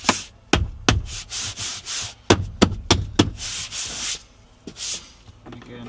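A lower interior trim panel on a MK3 Audi TTS is pushed and clipped into place over the sill, giving a series of sharp knocks, pops and scraping rubs, close and fairly loud, with no speech.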